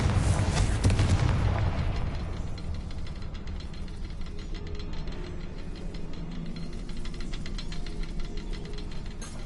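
A Confringo blasting curse in Hogwarts Legacy lands with a loud, heavy boom at the start, then fades into a long, rumbling roar that lingers to the end.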